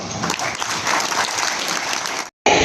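Sustained applause fills a ministry hall during an appointment letter ceremony for dental surgeons and medical officers, a dense steady clapping that cuts off abruptly near the end, then resumes loudly.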